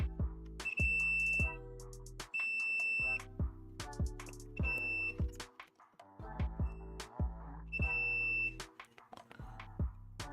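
Beeps from a multimeter in continuity mode sound in short, on-off bursts while probes are touched to pins on a failed TMC stepper driver board, loud and close with brief pauses between tests and no talking.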